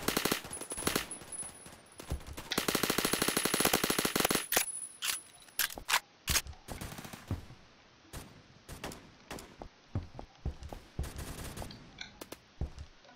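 Rapid automatic bursts of M4A1 rifle fire in a Roblox shooter, with a long sustained volley early on followed by shorter scattered bursts and single shots, loud and close throughout.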